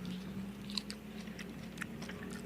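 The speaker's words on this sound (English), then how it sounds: "Can you hear that crunch? That's how delicious these are." A pickle is bitten and chewed close up outdoors at a street vendor's stall, giving a few crisp crunches followed by wet chewing over a low steady background hum.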